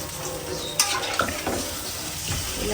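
Fish fry in a pan with a steady, close sizzle and crackle, broken by a few light clinks and stirring scrapes.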